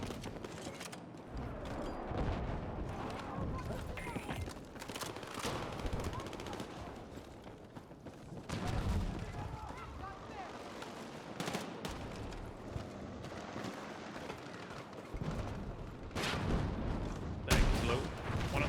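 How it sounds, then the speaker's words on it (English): Machine gun fire in Battlefield 6 crackles in repeated bursts alongside other gunshots and heavy booms. Some shots are close and others are distant, and voices talk intermittently over the firing. "Hostile machine gun!"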